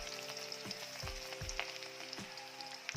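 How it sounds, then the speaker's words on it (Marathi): Garlic fries in hot oil while being turned for a dill and bell pepper vegetable dish, giving a continuous close sizzling hiss with soft rhythmic stirring thumps and no voices. "लसणाचा छान रंग बदलेपर्यंत तो असा परतून घ्यायचा तेलात"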